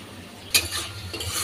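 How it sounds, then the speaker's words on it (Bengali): Onion frying in soybean oil in a pan while being stirred, giving a soft, steady sizzle with one brief sharp scrape of a utensil partway through. It is quiet and close, with no talking. "পেঁয়াজটা একটু লাল লাল করে ভেজে নিই"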